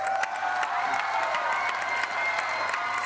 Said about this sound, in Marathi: जोरदार टाळ्या झाल्या पाहिजेत भाऊ कदम यांच्यासाठी